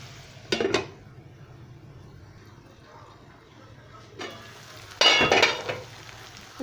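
Vegetables fry in a pan for a Sindhi-style dish, giving a soft steady sizzle. Two louder bursts of stirring and scraping against the pan break through it.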